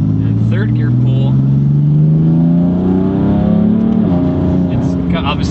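A modified 600 hp BMW M4 pulls hard in third gear, the engine note climbing steadily in pitch, loud and close from inside the car, with someone talking over it.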